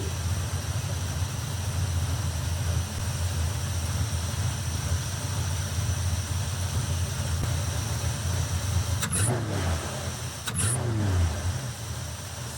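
A 1957 Chevy Nomad engine runs steadily up close with a continuous low rumble, and two brief, sharp squeals cut through near the end.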